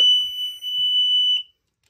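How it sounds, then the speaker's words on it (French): High-water bilge alarm aboard a sailing boat, a loud, piercing steady electronic tone held for about a second and a half with a brief dip, then abruptly cut to silence. "Ça veut dire alarme haute eau dans les cales."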